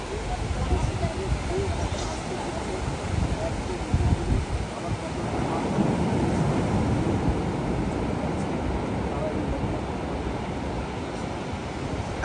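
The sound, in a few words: large ocean waves at Cox's Bazar beach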